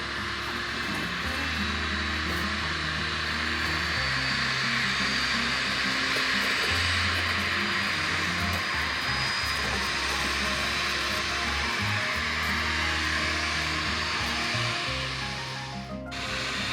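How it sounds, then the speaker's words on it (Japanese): Turbine engines of a Boliviana de Aviación airliner departing for La Paz, heard from an airport observation deck: a loud, continuous jet whine and roar with shifting low-frequency rumble, sustained throughout and briefly dipping at the end. "タービンエンジンがいい音でたまりませんね"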